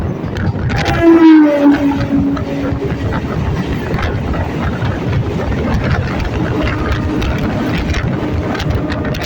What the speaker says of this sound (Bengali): আমাদের ট্রেনটা এই মুহূর্তে ঢুকছে গোবরডাঙ্গা স্টেশন